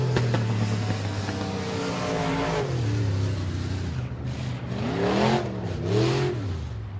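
A race car on a time trial lap in an IRP chassis roars past at a dirt speedway, its engine pitch climbing as it accelerates, then dipping and rising again through the turns, loud and continuous.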